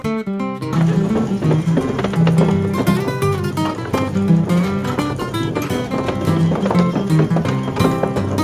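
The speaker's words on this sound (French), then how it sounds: "On vient de jouer au jeu des petits chevaux qui font la course là." A fairground mechanical horse racing game is running, with a loud, steady galloping clip-clop rhythm over music-like tones and a noisy crowd.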